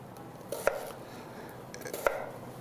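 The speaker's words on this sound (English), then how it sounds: "I'm going to score through the onion most of the way." A knife scoring and chopping an onion on a cutting board, two distinct close knocks about a second and a half apart over a quiet kitchen background.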